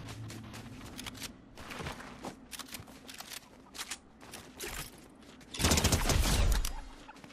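Rapid bursts of Fortnite video game gunfire crackle through the clip, with a louder, denser volley near the end.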